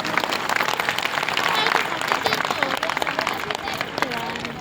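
Rally crowd at a Rajput community gathering in Kherli, Alwar district, clapping steadily in a loud, dense wash of applause, with crowd noise and an amplified voice running through it.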